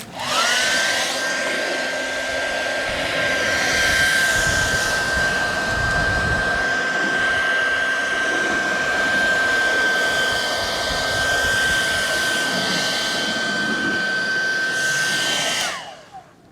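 A hair dryer blows hot air onto tinted film on the lights of a Tesla Model 3: a steady, loud whirring rush with a constant high whine, running without pause for about fifteen seconds before switching off abruptly.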